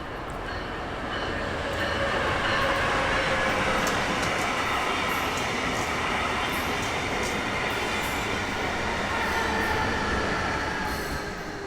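A Miami-bound FEC freight train of autoracks and intermodal cars, led by LNG-powered locomotives, rolls past at track speed, a loud continuous rumble of wheels and cars with faint rhythmic clatter and squeal over the whole stretch.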